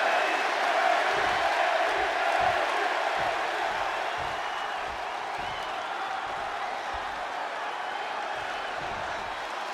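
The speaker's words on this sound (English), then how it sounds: "just listen to this crowd here in Chicago" Crowd noise from a Chicago arena in the WWE 2K26 wrestling video game, a steady wash of cheering and applause that runs through the whole stretch and eases slightly toward the end, with a commentator's voice faintly underneath.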